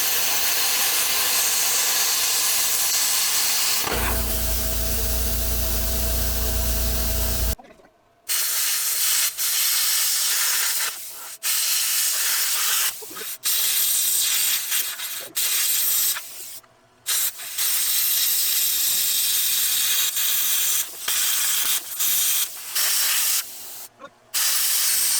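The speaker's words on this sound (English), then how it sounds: "So I'm trying to cut the weld out, but not the frame and not the actual shock towers." Plasma cutter cutting a weld out of a truck frame near the shock towers, a loud steady hiss for several seconds, then broken stretches of spraying hiss with abrupt stops and restarts.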